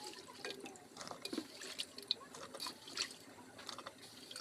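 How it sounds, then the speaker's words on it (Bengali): Tap water runs into a sink while eggplant, beans and potatoes are rinsed in a home kitchen, a faint steady trickle with small splashes and clinks. "তো এখন তরকারিগুলো ধুয়ে নিচ্ছি"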